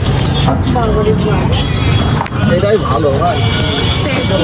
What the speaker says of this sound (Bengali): এই অটোটা বেশ ভালো লাগলো আমাকে